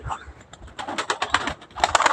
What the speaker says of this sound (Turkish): Kuşları da çıkardım artık hava kararıyor.